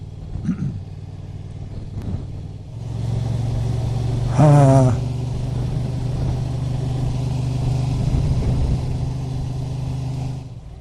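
A Honda Transalp 750 motorcycle ridden along a mountain creek, its engine a steady, loud, close rumble with a brief rising rev partway through, no speech.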